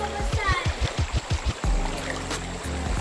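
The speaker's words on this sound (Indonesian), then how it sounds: "Oh tu ada anak sungai eh" Water flowing in a small jungle stream, a continuous rushing wash with splashy bursts, while people talk over it at close range.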